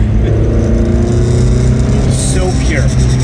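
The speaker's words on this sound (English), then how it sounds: "I am driving this car" Lotus Ford Cortina engine droning steadily while the car is driven, loud and close with a continuous low rumble and a faint rise in pitch near the end.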